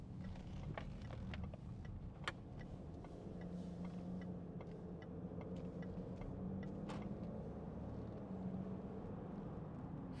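A 2015 Range Rover Sport 3.0 SD V6 HSE automatic 4WD heard from inside while driving: a steady low engine hum and road rumble, continuous and fairly quiet, with faint ticks and clicks above it.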